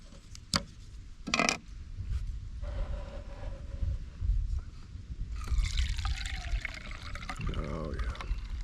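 Liquid caffeinol developer is poured through a filter, giving a steady close trickle and gurgle that builds toward the end, with a couple of sharp knocks near the start.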